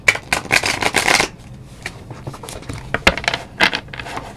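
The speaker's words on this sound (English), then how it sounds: "I like y'all to hear the shuffling of the cards" A deck of tarot cards being shuffled on a desk: rapid riffling bursts, then scattered slaps and flicks of cards, crisp and close, with no voices.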